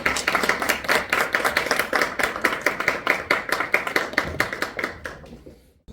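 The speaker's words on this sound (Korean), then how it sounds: "박수 부탁드릴게요" An audience at a Korean book talk launching a publisher and its novel applauds as the production team comes up, with dense, lively clapping pulsing evenly for about five seconds before quickly dying away.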